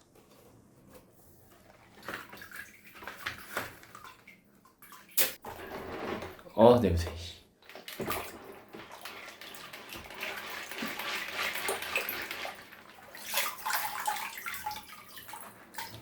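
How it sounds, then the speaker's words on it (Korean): Aquarium filter media being rinsed in a bowl of tank water while cleaning an external canister filter, with sloshing and splashing sounds. People talk briefly in the middle. "여과제가 담긴 그릇을 어항물에 헹궜습니다."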